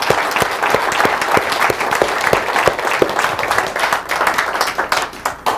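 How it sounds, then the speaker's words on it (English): Church congregation giving a clap offering, a dense wash of many hands clapping steadily with a few sharp, rhythmic claps standing out, continuous across the whole stretch and fading slightly at the end. "would you give him a clap offering"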